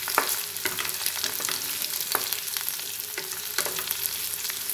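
Onion, ginger, garlic and spices fry in a pan for a motor poneer dish, a steady close crackling sizzle with occasional sharper stirring scrapes throughout.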